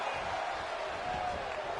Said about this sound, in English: Lita drawing a big reaction from the crowd